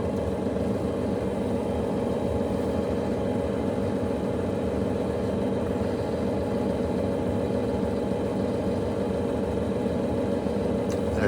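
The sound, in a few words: Luxaire furnace motor running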